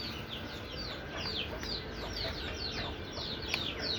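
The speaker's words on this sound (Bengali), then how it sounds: "এই যে এখানে আমার মুরগির খামার।" Chickens at a small poultry farm cluck and chirp repeatedly in an uneven chorus over a busy, noisy background.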